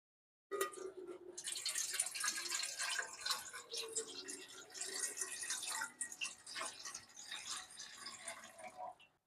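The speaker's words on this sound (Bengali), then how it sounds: "এবার আমি সসপ্যানের মধ্যে জল দিয়ে দেবো" Water pours steadily into a saucepan in a kitchen, a close, bright splashing and filling stream that starts abruptly and runs continuously with slight surges before tapering off.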